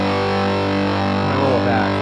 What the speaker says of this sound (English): So Big Muff back on again.